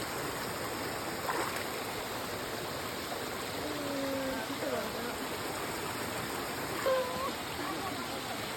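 Stream water rushing during a hike near Dadagau, a steady broadband wash heard nearby, with faint voices briefly rising over it now and then.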